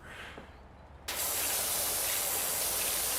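A pressure washer in Powerwash Simulator 2 cuts in abruptly after a quieter moment and then sprays continuously, a loud, steady, dense hiss of water jet that holds without a break.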